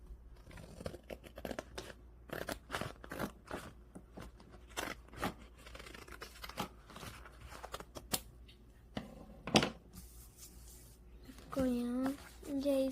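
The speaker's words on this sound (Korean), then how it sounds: "가위로 반 빈틈을 오려줍니다" Scissors cut through a used-up sheet of stickers to make handmade stickers, giving a run of crisp, irregular snips and paper rustles at close range, with some voice sounds around them.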